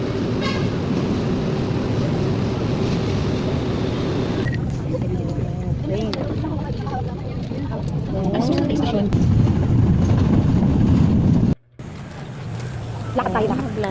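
Riding aboard a train, a steady rumbling rail noise fills the carriage with a louder rattling stretch and a brief drop-out, while people talk over it.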